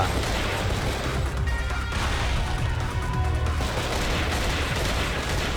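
Enemy gunfire in the horror video game Cold Fear comes as a dense, continuous barrage of loud shots and crashing impacts over a noisy game soundscape.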